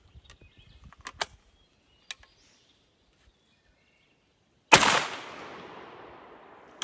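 A 24 gauge shotgun fires number 4 buckshot, one sharp, loud blast that rings out and decays over a couple of seconds after a few faint clicks and handling noises.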